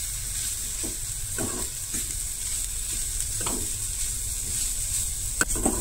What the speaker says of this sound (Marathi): आणि सोय सुद्धा न्हय चड अशी भाजून घेवंक जायना, मातशी अशी गरम करून घेवंक जाय